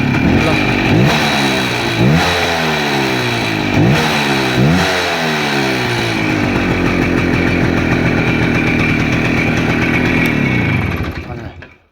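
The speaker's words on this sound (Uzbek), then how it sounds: "Mana hozir gaz berib ko'raman." A Voskhod motorcycle engine revs up and down several times in quick bursts, then holds a steady high drone before cutting off abruptly.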